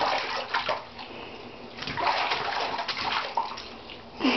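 Water sloshing and splashing in a bathtub during a child's bath, irregular bursts of moving water close by with small gurgles, no talk.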